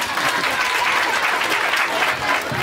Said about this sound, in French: Et je vous demande tous d'applaudir pour vos papas